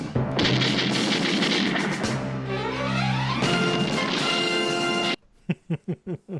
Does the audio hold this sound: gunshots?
yes